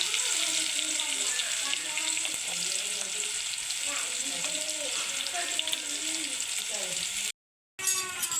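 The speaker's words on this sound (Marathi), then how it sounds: "हा कांदा मस्तपैकी परतून घेते" Onion with green chilies sautés in a pan, a dense steady sizzle up close with faint voice-like murmurs underneath, cutting out briefly to silence before resuming.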